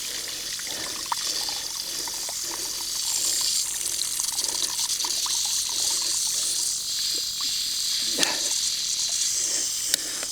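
Water hisses and sprays steadily from a leaking pipe fitting, a continuous broadband rush with faint trickling and occasional clicks throughout.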